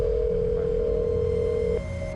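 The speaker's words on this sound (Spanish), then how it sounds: "La llamaban con la esperanza de que atendiera el teléfono." A steady electronic telephone tone for an unanswered call holds one pitch for nearly two seconds, then cuts off, leaving a faint hum.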